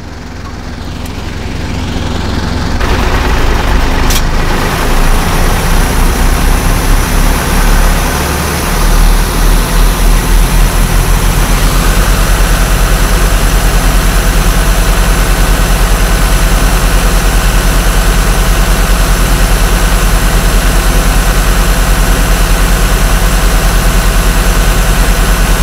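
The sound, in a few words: FUSO diesel truck engine running during DPF regeneration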